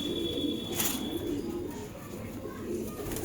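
Pigeons in a loft keep up a soft, low continuous cooing that runs steadily throughout, with a brief brighter rustle or flutter near the start.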